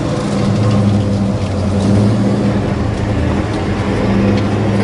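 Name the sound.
1966 Chevrolet Chevelle SS being driven off in gear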